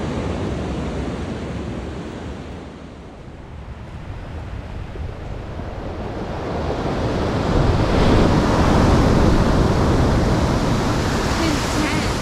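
Pacific Northwest ocean surf rolling onto the shore, a broad hissing wash that dips around the third second and then swells into a louder, closer breaking wave, with wind buffeting the microphone.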